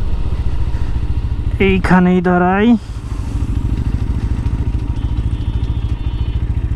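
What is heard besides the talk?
GPX Demon 165RR motorcycle engine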